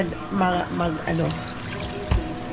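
Water poured into a cooking pot of pork adobo, a bubbling, splashing pour beneath someone talking, with a sharp clank near the end.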